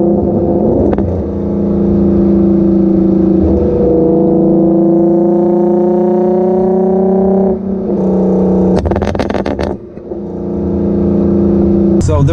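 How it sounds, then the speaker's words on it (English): A steady low exhaust drone from a tuned, full-bolt-on Infiniti G37 with rising harmonics as it accelerates, continuous for most of the clip with a brief dip and a couple of sharp noises near the end. "There is just a little drone with this exhaust, but not much."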